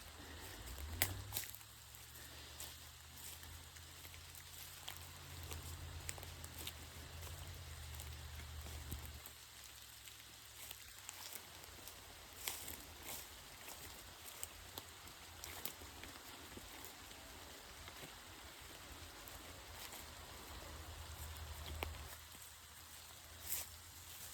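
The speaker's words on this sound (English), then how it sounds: "You hear the rain." Steady rain patters across the woods in a continuous hiss, with occasional louder drips and a low rumble underneath; no voices.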